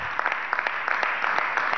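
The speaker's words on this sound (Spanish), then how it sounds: "desde aquí le damos un aplauso a Mayra, a sus tres hermosos hijos" Audience applause at a government broadcast event in Venezuela, fairly soft and even, clapping continuing steadily across the short span without speech on top.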